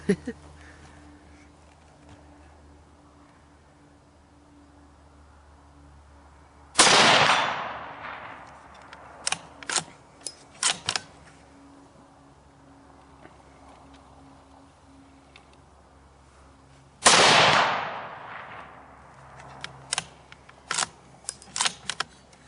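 A Savage Axis .223 heavy-barrel rifle fires two loud, sharp shots about ten seconds apart, each followed by a decaying boom and several bright metallic pings from steel targets being struck downrange.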